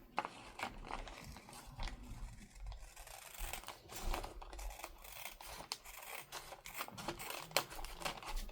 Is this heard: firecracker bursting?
no